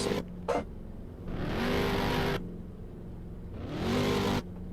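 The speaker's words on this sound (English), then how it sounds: "Whoever's revving, stop it now" Race car engines revving at Angelus Speedway, two strong sustained bursts of roaring engine noise separated by a quieter idle, preceded by a couple of short blips, loud and close with no talking.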